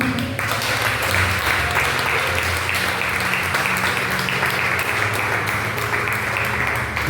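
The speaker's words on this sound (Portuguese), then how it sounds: "Você pode aplaudir o nome de Jesus?" A Portuguese church congregation applauds in a steady, sustained wash of many hands clapping, with a low hum and faint voices beneath, holding at an even level throughout.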